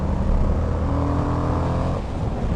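An Indian FTR 1200 S Race Replica motorcycle engine revs hard on the throttle close by, a steady loud growl that drops off near the end.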